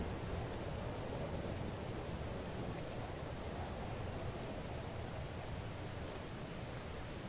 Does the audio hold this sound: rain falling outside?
yes